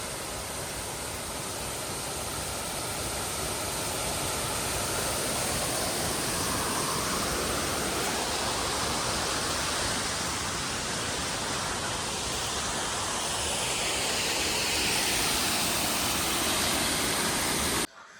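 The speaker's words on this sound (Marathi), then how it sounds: "ह्यास आम्ही डुरवा धबधबा म्हणतो" The Durva waterfall on a river roars as a steady, dense wash of falling water, loud and close, unbroken for the whole stretch and cut off abruptly at the end.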